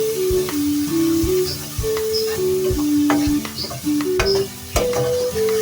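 Spices stirred and sizzling in a pan while cooking matar gosht, a peas and meat curry, with steady frying hiss and repeated scraping knocks of a spoon against the pot, close and clear.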